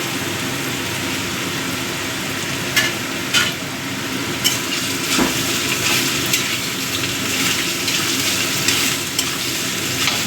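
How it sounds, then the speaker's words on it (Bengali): Radish pieces fry and sizzle in hot oil seasoned with panch phoron for mulo ghonto, a steady loud crackle broken by a few clattering stirs of a spatula, close up with no talking. "মূলোগুলো তেলের সাথে মিশিয়ে দিচ্ছি।"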